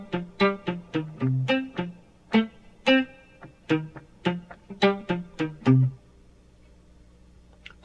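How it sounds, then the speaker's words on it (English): Palm-muted electric guitar playing a bass riff, short dampened plucked notes in a bouncy repeating rhythm, close and clear, stopping before the end. "I've got my palm against the strings, pressing lightly to mute the strings"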